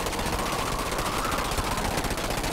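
Rapid assault-rifle gunfire from GDI infantry in Command & Conquer 3: Tiberium Wars, a dense continuous rattle of shots loud throughout, with no pauses.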